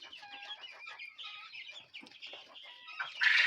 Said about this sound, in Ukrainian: Є у нас курчата